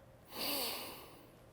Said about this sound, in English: One last whiff.